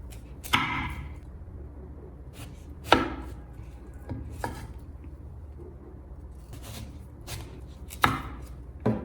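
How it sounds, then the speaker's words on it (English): A knife cuts watermelon sections on a cutting board, close up and quiet, with a handful of sharp, irregular chops and thuds separated by pauses of low room noise. "take one of the watermelon halves you just cut and slice it lengthwise into 3 or 4 sections"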